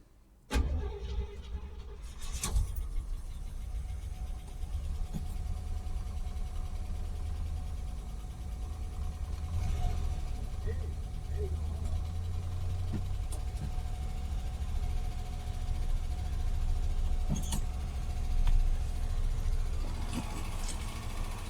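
Long-dormant car sitting more than 25 years, its engine fired back up and running at a steady, loud idle after an initial startup burst, with a faint whine throughout and occasional clunks.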